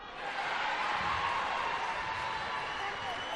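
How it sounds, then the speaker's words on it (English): A loud, sustained crowd roar builds quickly and holds steady at a rugby league under-20 grand final between the Panthers and St George Sparks, with a commentator's voice faintly under the wash of noise. "there must be plenty of people here tonight supporting them, because that was a loud cheer"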